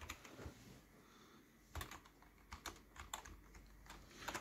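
Fingers type on a Kingston Fury Hurricane keyboard with noisy, mechanical-sounding keys, making quiet, irregular clusters of clicky keystrokes with short pauses between bursts.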